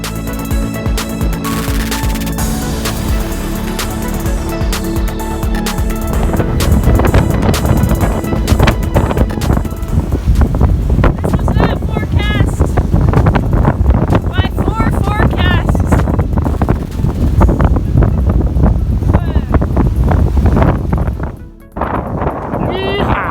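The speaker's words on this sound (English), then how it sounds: "This burst of wind at 30 knots lasted for a couple of hours" Strong 30-knot wind gusts on a sailboat at sea with the jib reefed, loud buffeting wind noise and rushing air throughout, with speech over it, dropping briefly near the end.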